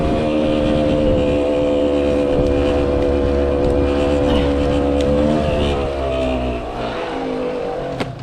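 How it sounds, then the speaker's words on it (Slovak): A 25-year-old motorcycle engine runs loud and continuous at close range, a dense steady rumble with a slight drop in intensity near the end. "Veď zapni motorku,"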